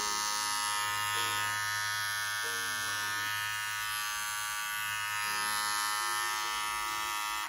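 Renpho cordless hair trimmer fitted with a Wahl blade running at 7000 RPM, a steady close high-pitched motor buzz that holds constant and cuts off abruptly at the end.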